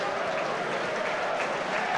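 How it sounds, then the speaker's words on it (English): Stockport County football fans applaud in the stadium as a player walks down the tunnel, a steady wash of distant clapping from the stands with no break. "I don't get the County fans applauding as Hills walks down the tunnel"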